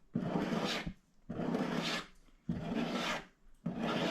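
A file rasping across body filler on a car fuel door, four long rhythmic forward strokes with short gaps between them, close and fairly quiet, with no talk.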